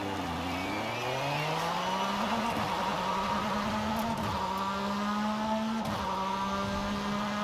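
A Porsche sports car engine in the video game Forza Horizon 5 revs up in a smooth rising whine, holding a high steady drone with brief dips for gear changes.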